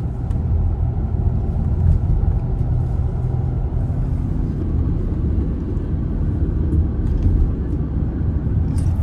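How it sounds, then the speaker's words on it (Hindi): A car rolling along a road in the Little Paris area of Bahria Town, Karachi: a steady, loud low rumble of engine and tyres that fills the whole stretch with no pauses and no voices. "गाड़ी है ना।"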